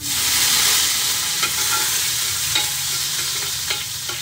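Garlic sautéing in a pan for pinakbet, heard as a loud, bright continuous sizzle broken by occasional scrapes and taps from a stirring utensil.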